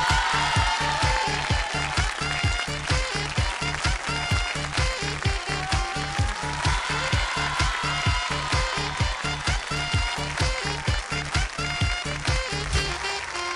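An audience at a stage show claps for a performer, a steady, sustained round of applause with a rhythmic, almost in-time pulse that carries on for over ten seconds.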